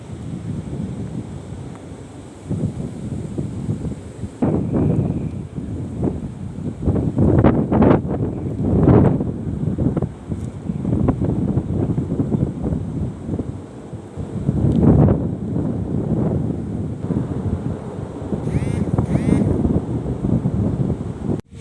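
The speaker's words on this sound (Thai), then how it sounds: "โอ้ลมแรงมาก" Strong gusts roar and buffet a microphone in an open sugarcane field while a kite is flown, producing a heavy, continuous rumble that swells and dips without pause.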